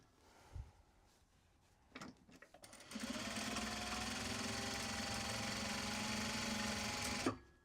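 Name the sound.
sewing machine running, bobbin acting up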